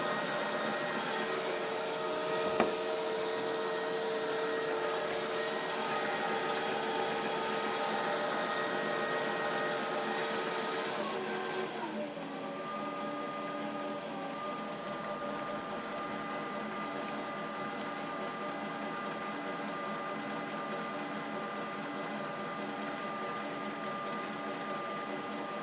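A Precision Matthews PM 1440 HVT-2 lathe runs steadily through a threading pass, a sustained mechanical drone with tonal whine and a slight shift in pitch midway, close and continuous with no talking.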